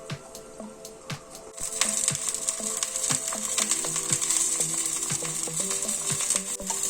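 One teaspoon of mustard seeds spluttering in hot sesame oil, sharp scattered pops that start sparse and then thicken into a steady close sizzle, with occasional light knocks of the pan and no talking.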